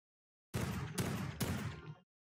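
Revolver fire in the retro shooter Project Warlock: three quick loud shots about half a second apart, each a sharp crack with a booming tail, starting abruptly after silence.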